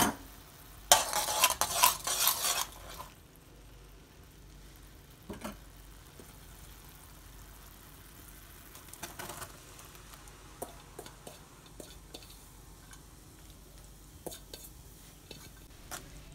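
Washed aval (flattened rice) is stirred in a pan for aval kesari, with cardamom powder added. A brief loud sizzling burst opens, then soft, intermittent scraping and stirring clicks continue close by.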